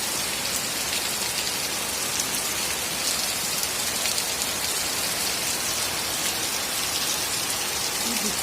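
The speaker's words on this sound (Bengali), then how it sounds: "বৃষ্টিটা হচ্ছে রে বাবা," Heavy rain pours steadily at night, a dense, continuous hiss of drops on surfaces that stays loud and even throughout with no voices.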